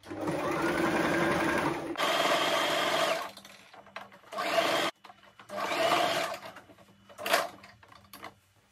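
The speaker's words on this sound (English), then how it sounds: "Then you carry on stitching." Sewing machine stitching fabric for a front-ruffled turban hat, running in loud close bursts of rapid whirring, some long and some short, with quiet gaps between.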